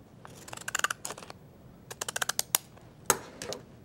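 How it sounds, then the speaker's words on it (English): Scissors snip around a paper seed packet in a quick series of crisp, close cuts, grouped in short bursts with brief pauses, fairly quiet in an otherwise still room. "you're going to trim around the top and then back down the other side"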